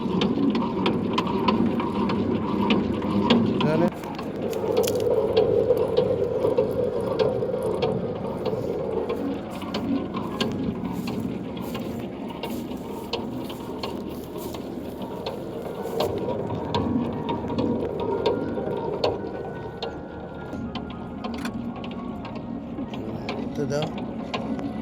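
Village rice threshing machine running continuously with a steady mechanical rattle and grinding churn, its loudness holding nearly constant, with a brief shift in tone around the fourth second and occasional clicks on top.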